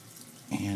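Cold water from a tap starts running into a sink during shaving prep, a rushing stream that begins halfway through after a quieter lead-in.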